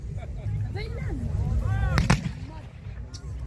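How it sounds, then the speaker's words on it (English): At a Civil War reenactment, pyrotechnic charges simulating artillery shell impacts thud and crack in the distance, one sharp burst standing out above a rumbling field ambience, with people talking nearby throughout. "Those are pyrotechnic explosions going off, that's right, simulating what the impact would be of shell being fired."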